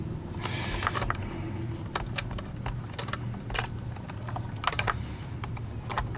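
A power plug is pushed into the motor socket of a Miele C1 S2000 vacuum cleaner during repair, giving a few sharp plastic clicks and small scraping taps up close, with no talking.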